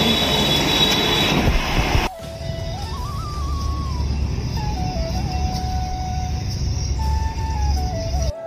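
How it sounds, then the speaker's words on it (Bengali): A train at Bhayandar railway station in Mumbai gives a continuous rumbling roar with a wavering, high-pitched metallic squeal of wheels running throughout, loud and close. "আমরা ভাইন্দা স্টেশনে ট্রেনের জন্য অপেক্ষা করছি।"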